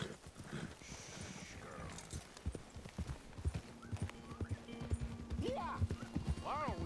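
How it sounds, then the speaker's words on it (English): Dutch's horse in Red Dead Redemption 2, hooves clip-clopping in a steady walking rhythm at close range, with a snort and whinny-like sounds and voices talking over it. "El caballo de ese güey está chido. El caballo del Dutch."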